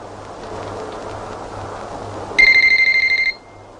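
A telephone rings once in a short electronic burst, rapid and pulsing, over a quiet background of soft rain-like hiss; no one speaks.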